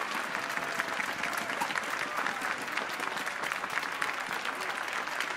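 A stadium crowd applauds the players after a Kansai collegiate American football game, Kindai Devils versus Kobe University Ravens; steady, even applause spread across the stands, heard from a distance with no break.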